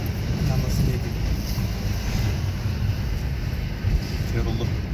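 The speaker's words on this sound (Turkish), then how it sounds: "Rüzgar geri ittiriyor." Strong wind blowing outdoors, a continuous loud low-frequency rush buffeting the microphone with a few gusty swells along the way.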